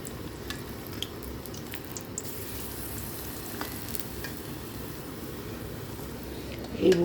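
Banana blossom chops coated in gram flour batter sizzle steadily in hot oil, a dense, even frying crackle throughout with a few faint drips, swelling slightly louder right at the end.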